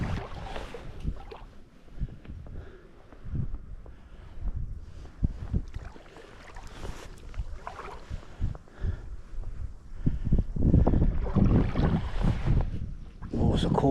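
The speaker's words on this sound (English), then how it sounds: "Oh, it's a cold east wind in it." Cold east wind gusting over a river, rushing and buffeting the microphone in uneven waves with water sounds beneath, loud and close throughout.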